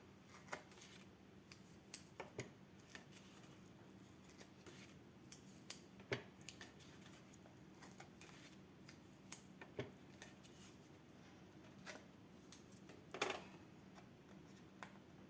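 Scissors snip through paper for a handmade photo album page in a quiet room, faint sharp clicks coming in irregular bursts with soft rustling in between.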